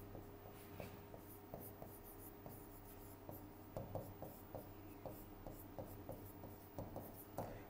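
A long word written by hand, faint close-up scratching strokes in a fairly regular rhythm over a steady low background hum, with no talking.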